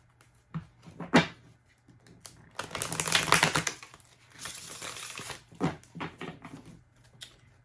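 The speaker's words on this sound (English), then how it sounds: "All right, one more good little shuffle." A deck of tarot cards is riffled and shuffled in a few quick bursts of crisp fluttering clicks, close up and otherwise quiet.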